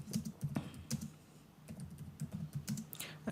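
Typing on a computer keyboard to compose a message, with quick clusters of soft key clicks in an uneven rhythm, close and fairly faint, pausing briefly midway.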